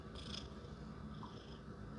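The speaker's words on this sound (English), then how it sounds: "She is so happy and purring today." A contented cat purring softly, a low steady rumble close to the microphone in a quiet room.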